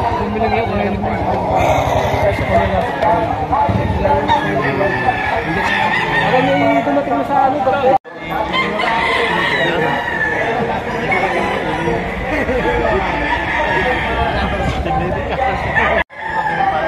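Roosters crow and chickens cluck amid crowd chatter at a busy Philippine poultry market, dense and close, while someone talks over them almost continuously.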